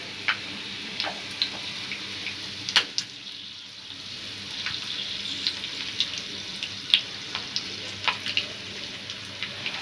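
Garlic cloves and cumin seeds frying in four tablespoons of hot oil for a spring onion sabzi, a steady close sizzle with scattered sharp pops and crackles throughout, no talking.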